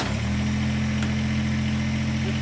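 A Mahindra compact tractor's diesel engine catches right at the start and settles into a steady, loud, close idle with a strong low throb that holds unchanged to the end.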